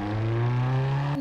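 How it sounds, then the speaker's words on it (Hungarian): A tuned car engine in Need for Speed Underground 2 holds a steady, loud drone that rises slightly in pitch, then cuts off abruptly at the end. "Ú, de jó hangja lett."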